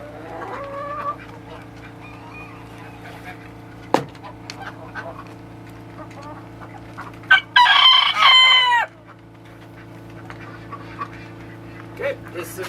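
Farm chickens cluck sporadically over a steady low hum, then a rooster crows loudly nearby for about a second and a half before the clucking resumes.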